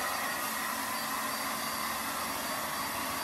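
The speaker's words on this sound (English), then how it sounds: "we're going to take the hair dryer and go over it again" A hair dryer blows steadily and close, a loud continuous whooshing roar with no breaks, drying paint and stain on a whitetail deer taxidermy reproduction.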